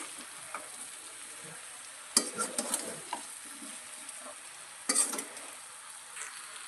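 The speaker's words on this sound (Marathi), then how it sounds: "तर मी ह्याला छान असं मिक्स करून घेते" Alu vadi pieces being stirred with white sesame seeds in a pan, a soft scraping and light sizzle throughout with a couple of sharper clinks of the spoon against the pan near the start and later.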